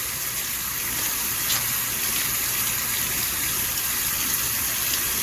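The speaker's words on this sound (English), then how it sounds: "we're going to wash our thumbs" A tap runs steadily during handwashing, a continuous close gushing stream of water with no talk over it.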